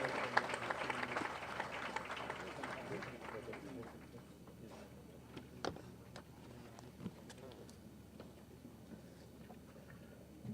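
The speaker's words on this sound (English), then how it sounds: "Let's applaud and thank him before he presents a vote of thanks." Applause from an audience at a cultural festival hall, a dense burst at first that thins into scattered, fainter claps over about ten seconds, heard at some distance.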